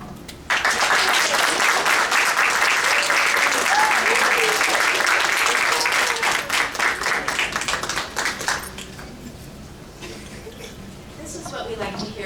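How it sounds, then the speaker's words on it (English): Warm, dense applause from an audience at an African American Heritage Week open mic night, loud sustained clapping for about eight seconds before thinning out, with voices beneath it. "lots of warm applause for our open mic readers"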